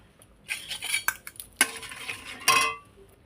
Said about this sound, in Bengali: দিয়ে একটু ভালো করে নাড়িয়ে নেবো।